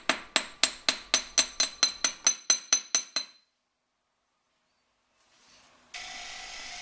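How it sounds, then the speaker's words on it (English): A ball peen hammer taps lightly on a metal chain link for jewellery, about a dozen quick, evenly spaced ringing strikes close by, then silence before a faint hiss. "I'm going to texture it a little bit with my ball peen hammer. I'm just going to hammer lightly all the way over the surface on both sides"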